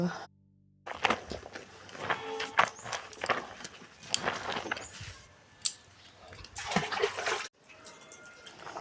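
A blanket washed by hand in water buckets, with splashing, sloshing and wringing sounds close by in uneven bursts, separated by short pauses.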